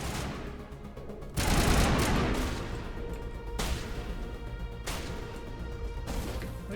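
Heavy gunfire from the video game Massive Effect comes in loud, dense bursts of automatic fire with crashing impacts. It stays close and continuous, with no speech heard.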